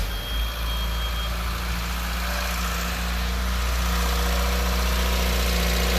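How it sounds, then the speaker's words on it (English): Nissan Figaro engine running at a fast idle, a steady low droning hum that continues evenly without a break, with no voices. "Kind of a fast idle, so we gotta let it run for a bit."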